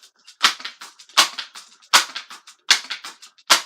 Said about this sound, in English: I'm just pumping it 5 times because I'm indoors, not too far away.